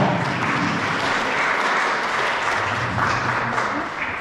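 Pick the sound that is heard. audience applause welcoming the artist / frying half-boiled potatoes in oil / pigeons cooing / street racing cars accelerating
audience applause welcoming the artist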